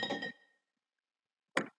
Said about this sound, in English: as well as this really cool wine bottle sound.